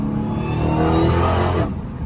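A supercharged Hellcat engine revs hard and steady on the street with a rising whine over the roar, then drops off sharply near the end.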